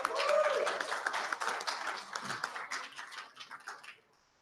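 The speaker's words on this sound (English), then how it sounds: "Big round of applause, everyone" Audience applause welcomes attendees at a live ex-Jehovah's Witness gathering in Sydney, a dense wash of clapping that swells at the start, thins gradually over about four seconds and then stops, with some cheering and voices mixed in.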